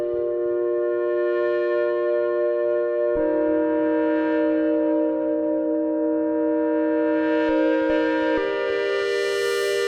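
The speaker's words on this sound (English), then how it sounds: "The plate reverb." Sustained guitar tones sent through a plate reverb pedal, ringing chords that change twice and hang with a smooth shimmering wash of reverb, loud and unaccompanied by talk.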